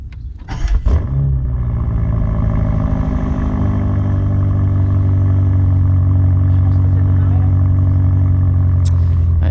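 A BMW M8 Gran Coupe, a 625-horsepower car, starts up nearby with a sharp cranking bark. The engine then settles into a loud, steady, deep idle that hums on without a break.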